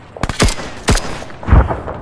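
FN FAL battle rifle fire in the video game Arma 3: several loud, sharp cracks in an irregular burst, close and punchy, followed by a heavier boom with a rumbling tail.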